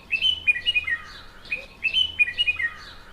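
A bulbul sings a run of bright, warbling phrases in short bursts with brief pauses between them, clear and close with no other sounds.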